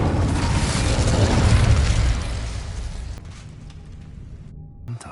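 An Incendio fire spell bursts in Hogwarts Legacy with a loud, roaring whoosh that holds for about two seconds, then fades into a fizzling tail with a small pop near the end.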